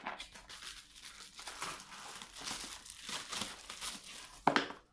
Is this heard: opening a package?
yes